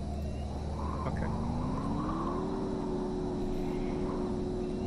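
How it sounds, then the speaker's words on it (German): Loud, constant roar of wind blowing across an alien landscape in the space survival game Empyrion, a dense unbroken rush that fills the whole stretch, with a low droning tone gliding upward beneath it and no talking. "Boah, der Wind ist so laut."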